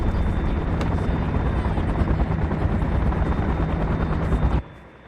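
A loud helicopter whirs steadily close by, its rotor chop continuous for several seconds before cutting off abruptly near the end.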